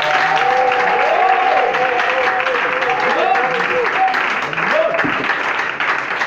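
A church congregation claps and cheers loudly, a sustained wash of applause throughout with voices calling out over it.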